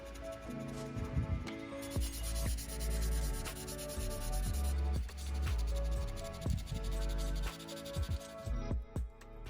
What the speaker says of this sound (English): could then sand the entire body smooth with 2000 grit sandpaper